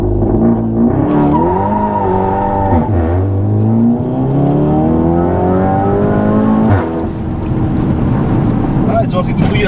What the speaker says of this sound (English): a launch that you can just hear the tone of the car